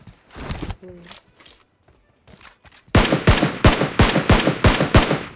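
Rapid bursts of automatic gunfire from the mobile battle royale game PUBG Mobile crack out in loud, sharp shots at a fairly even rhythm, after quieter scattered sounds and brief talk from players.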